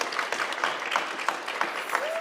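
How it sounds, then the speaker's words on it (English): A morning event crowd claps for the sponsors, a steady round of applause with distinct individual claps, moderately loud, plus a brief voice toward the end. "So just a round of applause and thank you to all those sponsors"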